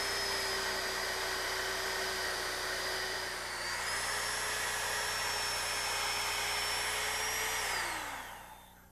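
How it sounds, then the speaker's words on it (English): A power drill whines steadily and loudly as it bores a pilot hole about 1 inch into a wooden post, its pitch stepping up partway through and then winding down at the end. "bit to drill into the post approximately 1 inch"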